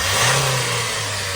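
A 2019 Hyundai Porter 2 truck engine with 366,000 km on it revs up and then settles, a close mid-pitched rising roar that eases back toward a steady idle, with no one talking.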